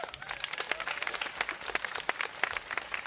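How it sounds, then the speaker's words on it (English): Audience applause at a concert in Falköping, Sweden: a steady patter of many hands clapping at moderate distance, with a few sharper individual claps standing out, no voices. "Give yourselves a round of applause."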